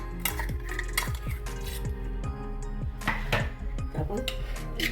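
A metal spoon clinks and scrapes against a bowl while mixed flaxseed, sesame and peanut chutney is served, with quick bright repeated knocks close up and a brief spoken word over a steady background.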